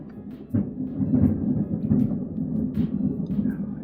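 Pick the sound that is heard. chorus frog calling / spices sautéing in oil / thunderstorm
thunderstorm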